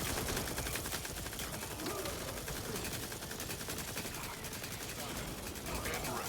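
Sustained rapid-fire shooting from a weapon in The Outer Worlds 2 video game, a dense, steady stream of quick shots that stays fairly quiet and even throughout.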